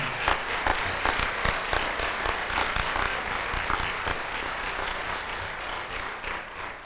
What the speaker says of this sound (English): Please give a round of applause for our 2025 nominees.